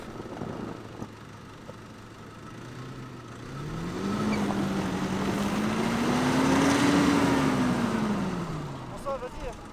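Car engine revving while trying to reverse on an icy, snowy road in Kyrgyzstan, a low idle that swells into a long sustained rev, rising and then falling away, fairly close with faint background noise.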